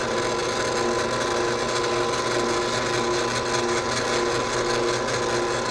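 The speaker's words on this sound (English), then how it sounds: "I'll put my 3/8 Forstner bit in there so I can make a flat bottom hole." A drill spins a 3/8-inch Forstner bit into wood to bore a flat-bottom hole for a hatch install, a loud continuous whirring grind held steady throughout.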